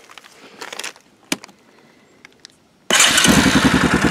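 A Yamaha Kodiak 400 ATV engine cranks and catches after a few quiet clicks and rustles, then runs loud and steady up close for the last second or so.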